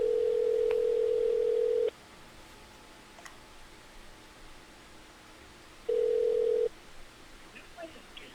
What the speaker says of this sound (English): Yeah, actually, I'll call Sarah quick